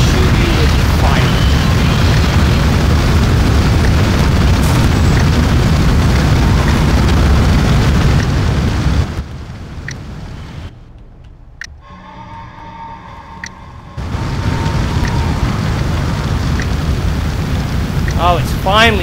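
Fire burning inside a prison in the video game Prison Architect, with a firefighter spraying: a loud, continuous roaring rush that drops to near quiet midway, then resumes at full strength.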